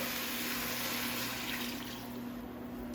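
A stream of water, about a liter, rushes steadily into a pot of Korean beef soup, a broad hiss that fades slightly toward the end, with a low hum beneath.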